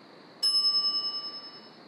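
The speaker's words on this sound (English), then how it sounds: "I step away from the counter for 2 seconds and some idiot's already ringing that stupid bell." A service counter bell in The Secret of Monkey Island is struck once, a bright metallic ding that rings out clearly and decays slowly over a faint background.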